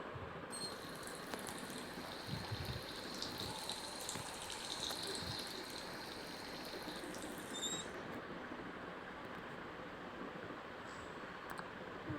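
Water gushing and splashing steadily, as from a tap or shower during a bath, with a broadband rush throughout and faint squeaks near the start, no voices.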